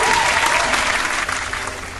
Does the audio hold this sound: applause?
yes